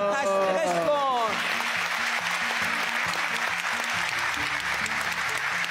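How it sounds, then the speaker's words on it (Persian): An audience claps for a donor at a fundraising appeal on a televised religious program, keeping up a sustained, fairly distant wash of applause. A voice speaks briefly at the start, and music plays underneath. "قربونت برم. تشویقش کن."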